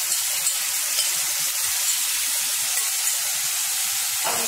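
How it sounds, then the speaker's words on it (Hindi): Curd-mixed rice lands in a pan of hot tadka tempering, giving a steady broad hiss and sizzle that holds evenly throughout, with a faint scrape near the end and no talking. "तड़के में हम ये राइस को डाल देंगे"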